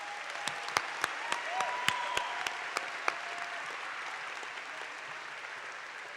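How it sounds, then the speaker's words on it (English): Commencement audience applauding students after an early music ensemble performance at Cal Poly's fall ceremony, a steady wash of clapping in a large hall with a few sharp nearby claps standing out, fading slightly toward the end. "How about one more round of applause for our talented students?"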